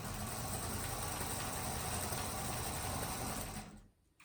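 A sewing machine runs steadily, stitching a quarter-inch seam down a fabric table runner, a continuous close mechanical whir that stops abruptly near the end.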